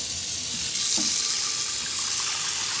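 Hot boiling water pours steadily into a MegaHome water distiller, a continuous close, loud rushing splash with no talk.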